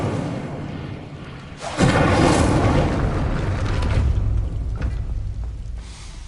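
In Hogwarts Legacy, the Incendio fire spell erupts as a sudden loud burst that swells into a sustained roaring blast, then fades into a rumbling tail with a few smaller crackles.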